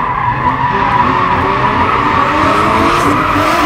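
Tires skid and squeal continuously as a BMW X3M spins drifting donuts, the engine roaring loud and close throughout with no pause.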